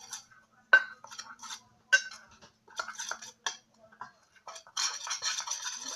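Homemade shampoo-based slime being stirred with a utensil in a container, giving irregular scraping and clinking strokes that grow into a denser, continuous stirring burst near the end, close and fairly quiet.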